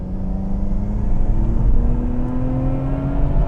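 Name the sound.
Nissan R34 GT-R RB26 turbo engine revving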